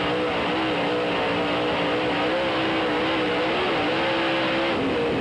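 An onboard dirt late model race car at Knoxville roars at full power with a loud, steady engine drone and rising and falling revs throughout, wind and track noise under it and no talk.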